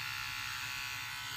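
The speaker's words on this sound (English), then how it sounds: "I just kind of take the edge of the clippers and I keep it" StraightScape hair clippers buzz steadily and quietly while cutting a curved neckline, a continuous close electric hum with no talking.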